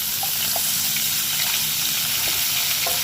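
Sliced bitter gourd frying in hot oil with tempered five-spice seeds, a steady close sizzle and crackle with faint stirring and no voices.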